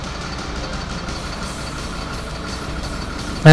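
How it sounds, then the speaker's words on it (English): A Freightliner truck engine idling at about a thousand RPM in the Rig-N-Roll driving game: a steady, even diesel rumble held at a constant level, ending with a brief louder click. "I do know that that starts my engine. It's running a thousand RPM"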